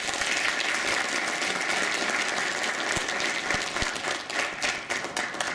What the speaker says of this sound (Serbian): Jedan aplauz za njih.